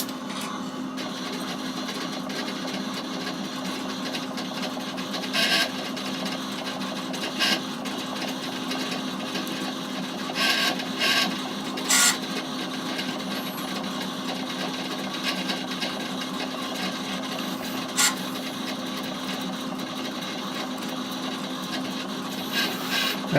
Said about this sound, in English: it seems to be printing out a load of data